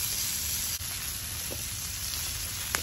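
Garlic roasting for guacamole, a steady close sizzle and hiss with a couple of faint ticks, no talking.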